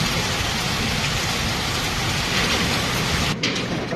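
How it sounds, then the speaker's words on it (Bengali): Heavy rain pours steadily after a hot spell, a dense, loud, unbroken wash with brief flickers of lightning around, heard alone without voices. "এত গরমের পরে বৃষ্টি দেখাতে মানে মনে হচ্ছে বৃষ্টিতে নেচে বেড়াই"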